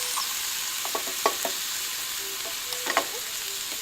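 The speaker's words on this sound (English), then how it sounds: "So you can just add your filling to the pan, just lightly sear it, just to kind of warm it all the way through." Dumpling filling and noodles searing in a hot pan, a steady close sizzle with scattered utensil taps and scrapes as they are stirred.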